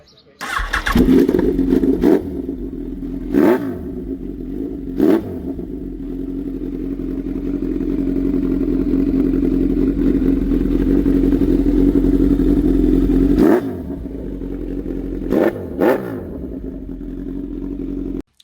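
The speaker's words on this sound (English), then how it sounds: "My dad's decided to make his bike a little more rowdy with a new exhaust." A motorcycle fitted with a new exhaust starts with sharp pops, then idles with a deep, loud rumble, punctuated by brief throttle blips and crackles.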